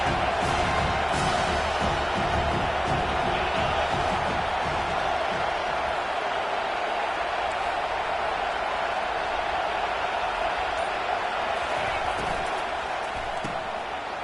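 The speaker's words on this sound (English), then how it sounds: "Decibels rising as the crowd gets behind this defense on 3rd down." A football stadium crowd roars on third down, a dense, sustained wall of cheering that holds steady throughout, with faint rhythmic thumps and a commentator's voice partly buried in the din.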